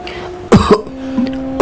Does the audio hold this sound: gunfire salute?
no